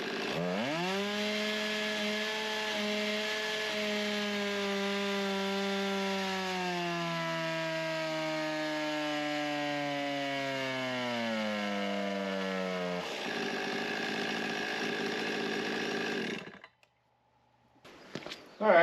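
A chainsaw with a 20-inch, 3/8-pitch bar, likely a ported Stihl 261 with a pipe, saws test cuts through a small log. It bogs under load for several seconds, and its pitch shifts as the cut finishes. The engine then revs freely, drops off, and restarts with a burst.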